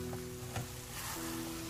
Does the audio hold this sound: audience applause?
no